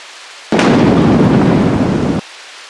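A thunderstorm bursts in with a sudden loud crack of thunder and heavy rain, a dense roaring rumble that starts sharply, holds for under two seconds, then cuts off abruptly.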